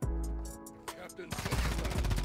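Gunfire in Modern Warfare 2, a fast run of close, loud shots in the final second after a stretch of game sound and a brief voice.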